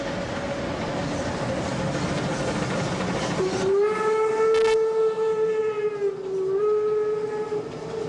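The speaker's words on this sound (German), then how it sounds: "Nach einem Halt im damaligen Berliner Hauptbahnhof dampfen wir nun über die Gleise Richtung Cottbus." Steam train rolling over the tracks through Berlin toward Cottbus, a steady chuffing rumble, then a loud sustained steam whistle sounding for several seconds with a brief dip in pitch before it continues.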